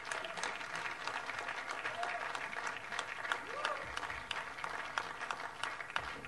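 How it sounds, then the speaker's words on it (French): Audience applause fills a hall at the LFC Awards 2018 ceremony in Yaoundé, a steady, dense wash of clapping that carries on evenly for several seconds with a voice speaking over it. "Applaudissements."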